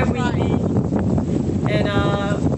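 Strong outdoor wind buffets the microphone with a continuous loud rumble, while a person's voice can be heard underneath.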